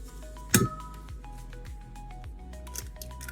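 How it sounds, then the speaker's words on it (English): Eggs are cracked separately into a glass bowl while cinnamon roll dough is being made, with one sharp crack and clink early, then faint soft squishes and small taps. "I like to do my eggs, crack them separate, just so I don't get shells in this."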